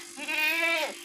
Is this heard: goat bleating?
yes